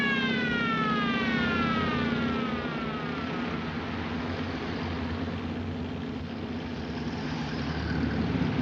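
Police car sirens escorting through traffic, a wailing siren sweeping and repeating over the first few seconds and then fading under a steady, loud engine and road rumble.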